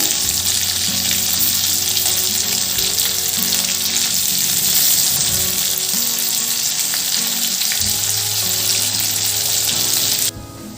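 Stuffed masala bitter gourds sizzle loudly in a hot pan while being turned, a continuous frying hiss with utensil clatter, then an abrupt drop to a quieter sizzle near the end.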